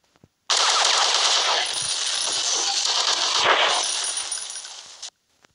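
A full magazine emptied in one long burst of rapid automatic gunfire in a video game, a loud, dense, continuous roar of about four and a half seconds that cuts off abruptly.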